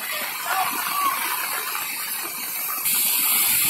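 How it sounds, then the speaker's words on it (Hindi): Floodwater from heavy rain rushes past a village near Sahastradhara, Brahampuri and Bandawali as a steady, loud broadband roar with no talk, swelling a little louder near the end. "पानी जो है जा ही रहा है।"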